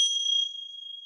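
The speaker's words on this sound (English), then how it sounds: "So I have some of these special Tibetan bells. And so we just bring these together," Two small Tibetan bells brought together, giving one bright ring that starts loud and fades into a long, steady, pure tone that hangs on alone.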